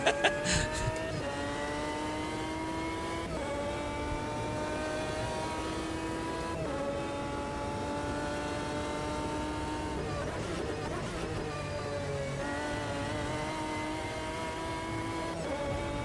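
A pack of race cars in a racing video game, engines droning and revving in layered tones that rise and fall with gear changes, continuous throughout with a brief dip around the middle.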